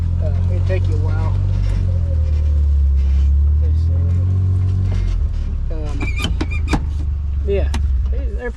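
A farm off-road vehicle crawls in low gear while checking fences and feeding cattle after a storm: a loud, steady low engine rumble close by, with rattles and a few sharp squeaks and knocks toward the end.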